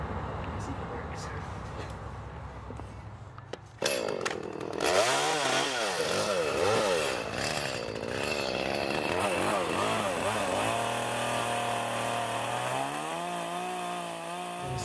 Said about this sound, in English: So I'll turn on the chainsaw, and that typically scares them away.